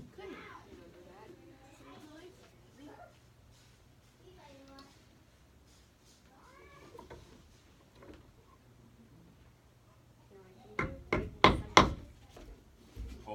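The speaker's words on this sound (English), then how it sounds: "Use the weight of the hammer to do its work." Several sharp, loud hammer strikes on a leather stamping tool land in a quick cluster near the end, while people talk quietly through the earlier part of the take.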